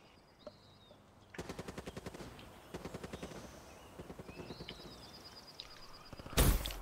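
Automatic gunfire from Call of Duty Black Ops 3 on PS4 rattles in rapid repeated bursts, separated by short pauses, with a louder blast at the end.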